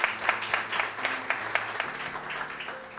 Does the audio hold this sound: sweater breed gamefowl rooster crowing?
no